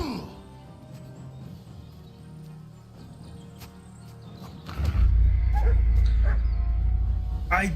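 A dog barks and yips in a video game, with a few sharp barks early on, then a louder, denser burst of barking and game noise near the end.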